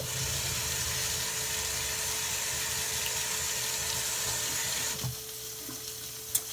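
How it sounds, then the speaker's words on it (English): Tomatoes rinsed under a running kitchen tap, a steady hiss of water that runs for about five seconds and then stops, followed by a soft knock. "So I'm just going to rinse off these tomatoes really quickly."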